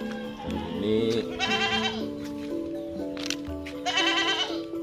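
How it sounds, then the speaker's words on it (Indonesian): Goats in a village goat pen bleat several times, loud and close, with overlapping wavering calls from more than one animal. "kandang kambing."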